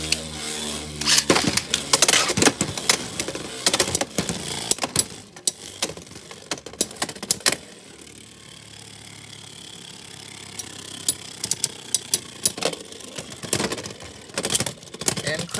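Beyblade spinning tops, including Scorpiospear against Crimson Garuda 080 Metal Needle, clatter loudly after launch with rapid scraping and clicking collisions in a stadium, then settle into a quieter whirring spin broken by more sharp hits.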